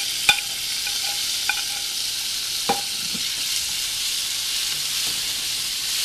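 Tomatoes stirred into onions frying in a pan for a Tamil squid curry, giving a steady bright sizzle with a few sharp utensil clinks and scrapes near the start, close and without speech.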